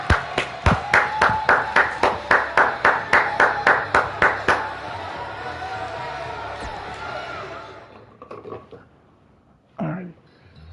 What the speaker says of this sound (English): give them a round of applause because Josh and Doug, they just put on one hell of a match